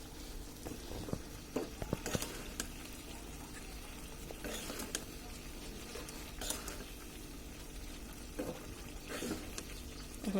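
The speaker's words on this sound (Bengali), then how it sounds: "এই যে দেখুন বলক চলে আসছে।" Tomato, potato and dried fish curry boiling in a pot, a continuous bubbling simmer with scattered pops and clinks throughout, close and even, no speech.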